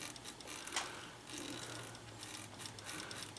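A very stiff Sears sewing machine is turned slowly by hand, giving faint, steady mechanical clicking and ticking, with quiet ratcheting and no voices.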